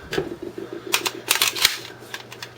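A MAC-10 pin being pushed back into the gun makes a quick cluster of close metallic clicks and snaps, crisp and fairly loud, with a low background hum.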